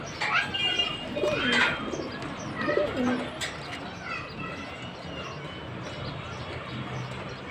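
Pigeons on a home balcony where chicks have hatched, with soft cooing and chirps near the start amid light background noise, fading into a quieter ambient stretch.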